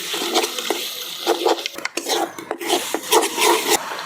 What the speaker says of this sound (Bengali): এখন নাড়াচাড়া করে মিশিয়ে নেব